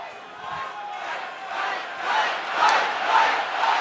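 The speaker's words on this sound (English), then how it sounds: "Donald Trump greeting a crowd, and they're chanting "Fight, fight,"" Large crowd at a Donald Trump rally chanting "Fight, fight", a broad swelling roar of many voices rising and falling in waves, heard from a distance with no single voice standing out.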